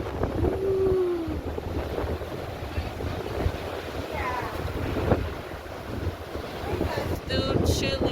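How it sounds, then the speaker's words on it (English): Strong wind gusts across an open stretch of Myrtle Beach shoreline, a constant roaring rush with waves washing beneath it and brief faint voices in the background. "It's windy."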